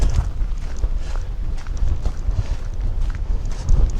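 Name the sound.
wind blowing on a misty hillside walk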